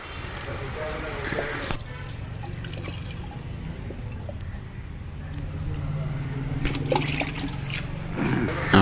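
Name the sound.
water poured in to flush out a car radiator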